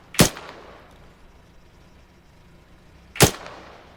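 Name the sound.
gunshots in the video game Arma 3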